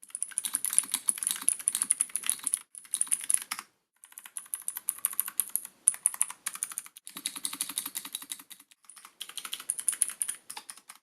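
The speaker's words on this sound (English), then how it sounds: "since they are using blue switches on this particular version, are going to be a little bit more clacky and loud" Clicky, loud typing on a Keyvance wireless mechanical keyboard with blue switches in steady bursts with short pauses between, heard up close with no voices.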